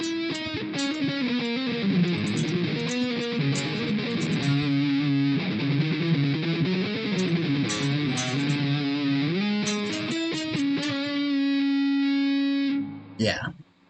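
An electric guitar plays a sustained lead melody, drenched in reverb and shimmering chorus, ending with a final ringing note that cuts off abruptly.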